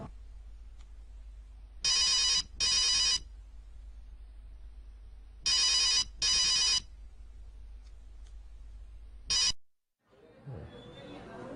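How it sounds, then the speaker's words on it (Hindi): A telephone rings indoors in three bursts, two double rings followed by a short single ring, each a loud electronic trill separated by quiet gaps, before it is cut off and faint handling noise follows. "बेल हो रही है, कोई जरूरी कॉल भी हो सकती किसी की।"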